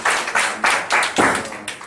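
An audience at an academic policy conference claps to welcome a speaker, giving a short burst of close, rhythmic applause in about six bursts of hand claps that fade toward the end.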